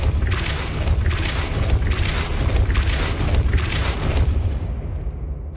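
Depulso spell effect in the game Hogwarts Legacy: a heavy booming rumble with repeated whooshing bursts in a steady rhythm, loud and dense throughout before fading out at the end.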